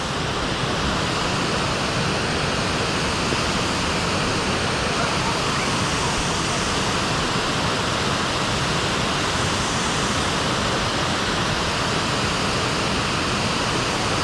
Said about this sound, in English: That is Bald River Falls.